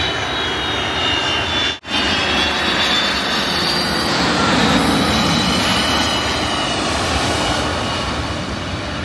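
A passenger airplane roars low overhead as it comes in to land at Mai Khao beach in Phuket, a loud sustained jet engine rumble and whine that fills the whole stretch.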